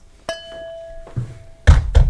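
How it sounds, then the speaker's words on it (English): A cork pushed back into a port wine bottle: a sharp tap, a faint ringing glassy squeak, then two firm close thunks as it seats, with no talking. "Cork back in."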